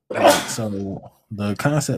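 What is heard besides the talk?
sneeze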